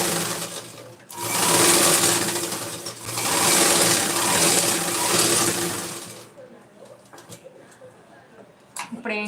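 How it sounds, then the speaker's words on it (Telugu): A sewing machine runs in two long bursts, stitching the double-folded hem of a sari petticoat, close and loud. It then stops, leaving quiet room noise with faint bird cooing and light handling sounds. "ఇలాగా డబల్ ఫోల్డ్ చేసుకొని ఇలా స్టిచ్ చేసుకోవాలన్నమాట"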